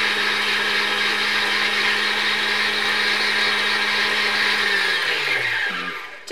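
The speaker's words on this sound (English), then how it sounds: "I can put my foot to the floor and fill the bobbin up" Front loading sewing machine winding a bobbin at full speed, a loud steady high-pitched whir that holds for several seconds, then slows and winds down at the end.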